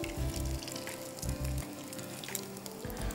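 Fish patties frying in hot oil in a home kitchen, a steady continuous sizzle and crackle with periodic louder bursts and low thumps as pieces are moved, close and alone without talk.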